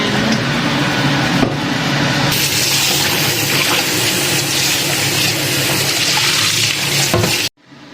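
Tap water gushes steadily over boiled pork bones being rinsed to remove blood and dirt, a loud, close, continuous splashing rush that cuts off abruptly at the end.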